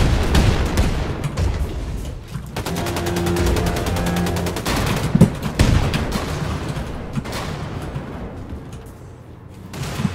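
Rockets fire and blow up in a Wolfenstein II firefight: rapid automatic gunfire rattles in a dense burst mid-clip, with heavy booms and blasts before and after, loud and close, with no talk.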